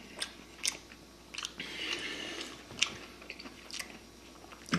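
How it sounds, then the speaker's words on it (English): Close-up chewing of a crunchy fish burger with pickles, tartar sauce and watercress: repeated bites and moist crunches in an uneven rhythm, with no talk. "The pickles, that little bit of crunch."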